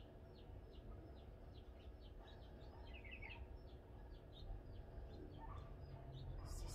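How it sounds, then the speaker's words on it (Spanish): Wild birds sing outdoors in quiet surroundings: faint, distant chirps and short tweets repeat irregularly over a soft background hush, with no one talking. "escuchando las aves que hay por aquí"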